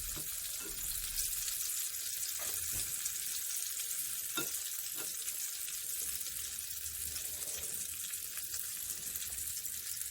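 Small fish fry on a stone griddle with a steady, fairly quiet hiss, broken by a few soft scrapes and taps as they are turned.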